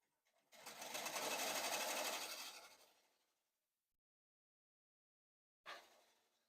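A home embroidery machine stitches out a fall design in a rapid whirring run of about two and a half seconds, close and loud, then stops; after a pause it starts again briefly.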